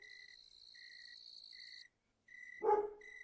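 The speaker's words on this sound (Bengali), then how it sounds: "চারিপাশ থেকে ঝিঝি পোকার ডাকে গা শিউরে উঠতেছে আমার" Crickets chirping outdoors at night, steady high trilling in overlapping layers that briefly cuts out, then resumes with a short dog-like bark or yelp breaking in near the end.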